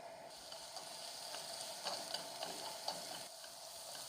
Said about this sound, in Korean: 팬을 달군 후 올리브오일 조금을 붓고 당근을 넣은 후 볶습니다.